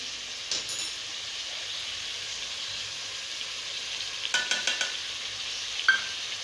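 Ginger garlic paste fries in oil in a pan with a steady hissing, crackling sizzle, and a few brief scraping stirs come near the end. No one speaks.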